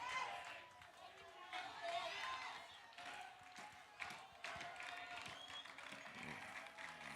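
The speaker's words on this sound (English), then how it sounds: "Lots of clapping." Crowd clapping at a varsity high school baseball game with the bases loaded, scattered applause and cheering rising and falling across the whole stretch, fairly faint and distant.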